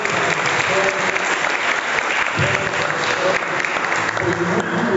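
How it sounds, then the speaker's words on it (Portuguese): Church congregation at a Sunday evening family service applauds, a loud dense sustained clapping with voices mixed in throughout. "Você pode aplaudir o Senhor?"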